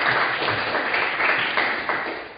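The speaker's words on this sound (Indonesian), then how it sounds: "kita tepuk tangan untuk kelompoknya" A classroom of students applauds a group's presentation, a brisk, lively patter of many hands clapping at close range that gradually fades toward the end.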